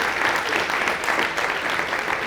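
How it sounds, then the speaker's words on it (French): Audience applause for a minister at an industry and commerce conference, a dense steady clapping from a sizable crowd heard alone for a couple of seconds. "Nous pouvons vous applaudir une fois de plus."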